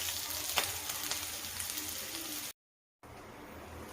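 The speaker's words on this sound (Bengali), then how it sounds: "হালকা করে একটু ভেজে নেব" Poppy seed, onion and cashew fry lightly in a pan with a soft, steady sizzle close by. The sound briefly cuts to silence, then resumes.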